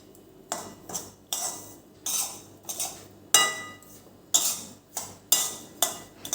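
A spoon stirs sweet ghughra filling with cardamom powder in a pan for a Diwali sweet, making about nine rhythmic scraping clinks of metal on metal, close and clear, with no talk.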